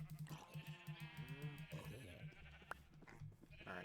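Sheep in the Minecraft video game bleating in a quick series of nasal, wavering calls, several bleats overlapping close by, with a voice talking faintly underneath at a low level.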